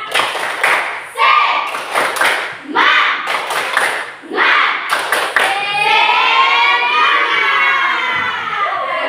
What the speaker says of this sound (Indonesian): Ibu kasih tepuk semangat kalau gitu.